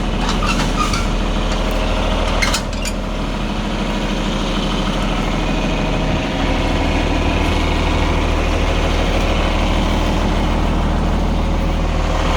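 A farm tractor's engine idles, a loud, steady low rumble that runs throughout with no voices.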